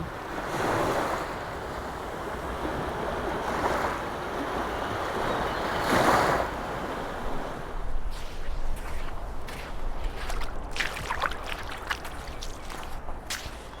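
Sea waves roll in at Pak Nam Pran beach in Pranburi, Thailand, with washes of surf surging and receding, growing broken and more scattered later, mixed with gusts of wind buffeting the microphone.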